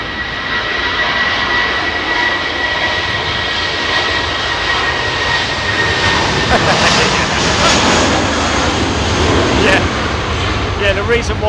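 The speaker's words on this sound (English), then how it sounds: "Distinctive Trents 800 sound." Airliner powered by Rolls-Royce Trent 800 jet engines roars loudly and steadily at windy London Heathrow Airport, a broad sustained engine rumble with wind buffeting the microphone.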